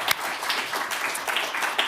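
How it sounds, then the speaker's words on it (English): An audience claps at a session on circular economy innovations in Aotearoa New Zealand, a steady wash of many hands under two seconds long, fairly close and even, with a few sharper individual claps standing out. "Let's give Adrienne a round of applause."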